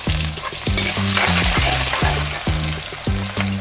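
Small shallots with green chillies, ginger and garlic being sautéed in hot oil for a wedding-style fish curry, a steady loud sizzle broken by repeated rhythmic scrapes and clanks of a spoon stirring in the pan.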